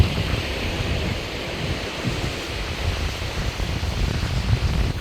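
Wind gusts buffet the microphone on a remote beach in Western Australia near Broome and Dampier, with surf washing in steadily behind a loud, continuous roar and no voices.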